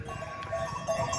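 Sheep and goats out on a pasture bleating in a few short calls over a soft outdoor background, fairly close and moderately loud.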